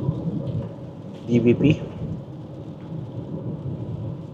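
Heavy rain pours steadily in a cloudburst that flooded the Don Valley Parkway area, with a loud thunder rumble near the middle and a brief spoken word over the storm.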